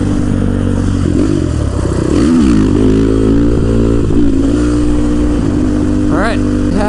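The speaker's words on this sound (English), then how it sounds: "I think we're safe to do a wheelie, guys." A street legal ATV engine revs and rises in pitch during a wheelie, loud and close under heavy wind rush, with a rider talking over it.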